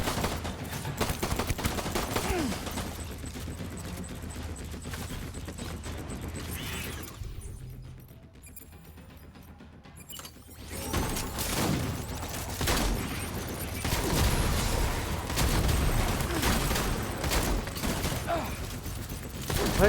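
Gunfire in Death Stranding: dense volleys of shots and bursts, loud and close, easing into a quieter lull midway before heavy firing resumes.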